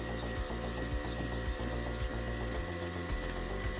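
Steady hand sanding of a 2010 Mazda 3 headlight lens, a rhythmic back-and-forth rasping of abrasive paper over hard plastic, close and continuous with regular up-and-down strokes.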